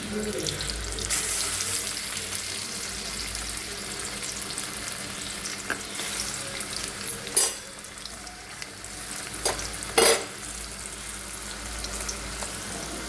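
A continuous close sizzle of stuffed ash gourd pieces frying in oil in a wok, with faint bubbling and a couple of sharp clinks or spatters near the end.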